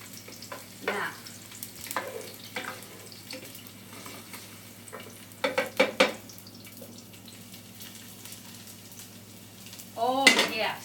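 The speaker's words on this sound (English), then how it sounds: "I don't want to burn the garlic." Garlic frying in olive oil in a pot while pasta with kale is cooked, a soft steady sizzle under clinks of a spoon and pan, with a louder scraping stir near the end.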